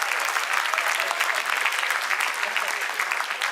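Applause from a live event audience, a dense, steady patter of clapping at moderate loudness that fills the short moment without letup.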